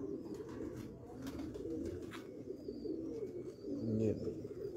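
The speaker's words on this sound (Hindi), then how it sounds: "सामने बहुत ही शानदार कबूतर" Low, soft cooing of Sialkoti pigeons continues throughout, with faint rustling and distant background noise.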